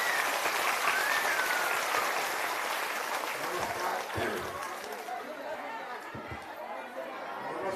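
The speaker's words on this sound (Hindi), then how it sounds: "एक बार जोरदार ताली बजाइए आदरणीय प्रसाद जी।" Villagers at an outdoor rally in Parmanandpur village, Murliganj, applaud loudly, a dense sustained clapping mixed with crowd chatter that gradually thins toward the end.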